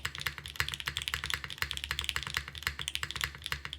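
Fast, steady typing on a top-mount TKL mechanical keyboard, a dense stream of close, crisp key clacks with a deeper thock underneath, no talking.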